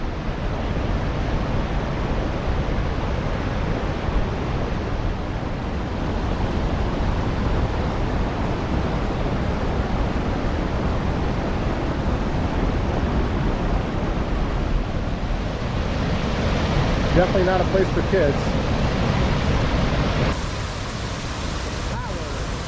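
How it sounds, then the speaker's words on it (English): Rushing river carrying Sierra Nevada snowmelt, a steady loud broadband roar of turbulent water throughout, with a person talking briefly over it. "the water, the snowmelt coming down from the high Sierra"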